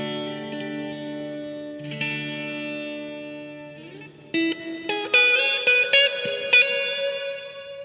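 Electric guitar played through a Yamaha THR10 amp with spring reverb, sustained chords and then plucked notes ringing out with a shimmering reverb and effects tail, alone without any talking.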